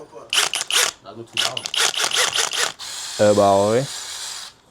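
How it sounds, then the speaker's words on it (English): People chatter in short bursts, then a power drill whirs briefly, its motor whining up in pitch before running on with a hissing buzz. "I'm getting your drill, you know"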